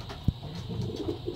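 Young pigeons in a loft give soft, low coos. One brief thump-like coo is followed by fainter murmuring calls, all quiet and close, with no talk.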